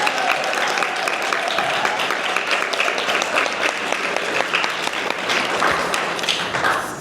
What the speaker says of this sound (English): Can we give one more round of applause to our sophomore inductees?